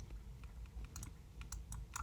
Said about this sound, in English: Sorry about the clicking here. I'm just trying to write on the slide.